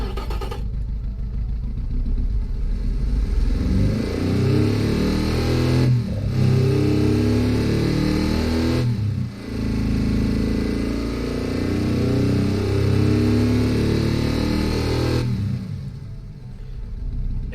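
A custom car engine in the Automation game revving up and down, a loud droning note that rises and falls and briefly cuts out a few times, with no voices over it.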